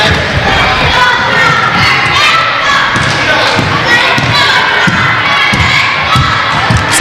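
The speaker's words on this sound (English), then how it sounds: "Looks like they have a little cheering section on the side." Spectators at a girls' 5th/6th grade basketball game, with a small cheering section of children and siblings shouting and cheering continuously over crowd noise, with thuds of a bouncing ball and play on court.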